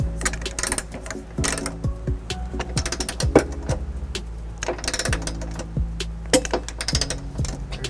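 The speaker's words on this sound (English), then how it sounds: "This torque wrench here is gonna give us a popping noise." Torque wrench with an 18mm socket tightening nuts on a trailer hitch on a 2012 Ford Escape, giving fast metallic ratcheting clicks in quick runs, close up.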